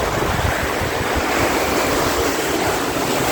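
Wind roars hard past a sailboat at sea with waves rushing and breaking around the hull, one loud continuous wash of noise up close, with no voices.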